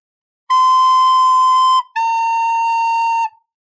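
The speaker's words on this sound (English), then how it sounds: "B is played with your thumb and first finger, and A is played with your thumb and first two fingers." A beginner's recorder plays two sustained half notes, B then A, clear and steady with a short gap between them, alone with no talking.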